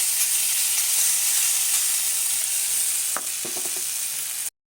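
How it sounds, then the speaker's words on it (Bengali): Ground lentil paste sizzles in hot mustard oil on a plate, a steady close frying hiss with a few scraping stir clicks near the end before sudden silence. "তেলটা গরম হয়ে আসলে ওর মধ্যে দিয়ে দেব ডাল বাটাটা"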